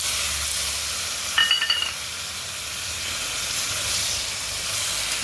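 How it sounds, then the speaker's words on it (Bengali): Ground spice paste thinned with a little water sizzles steadily in a hot pan, with a brief clinking stir of a utensil near the start and a continuous loud hiss throughout. "বাটা মশলাটাই দিয়ে দিলাম একটু জল দিয়ে দিই"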